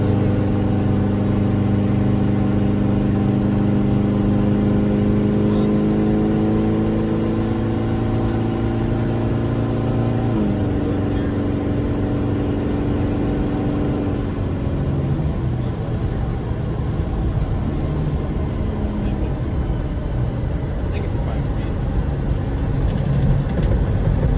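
A 1988 Land Rover 110 with a 300tdi diesel engine pulling in second gear, a steady droning engine note that rises as it accelerates and shifts its tone partway through, heard from inside the vehicle.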